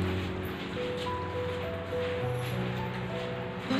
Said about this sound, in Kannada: ಅದರೊಳಗೆ ನೀರನ್ನು ಹಾಕಬೇಕು.